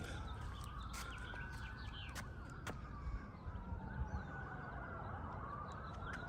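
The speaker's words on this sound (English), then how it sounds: "Can you hear the sirens?" Emergency sirens wail from a distance, several overlapping tones rising and falling steadily, with sharp clicks and faint bird chirps nearby.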